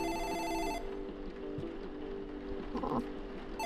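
A phone rings in the video game Future Racer 2000 with a steady electronic tone that cuts off early, followed by quieter game sounds and a short burst near the end.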